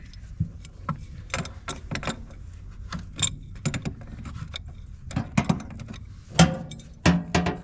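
Tools and metal parts clank and rattle while someone rummages through a trailer tongue box for a crescent wrench, with repeated close, sharp knocks and scrapes in irregular bursts, louder near the end.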